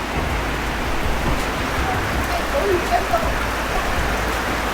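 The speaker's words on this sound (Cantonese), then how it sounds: "極級大雨啊！" Heavy rain hisses continuously and evenly at a seaside fishing spot, heard from a sheltered hollow, a dense steady wash of noise with no pauses, with a few faint indistinct sounds beneath it.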